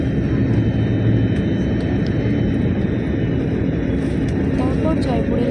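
Steady, loud cabin drone inside an airliner climbing after takeoff from Jaipur, a dense low engine roar with faint tonal whines and occasional clicks throughout.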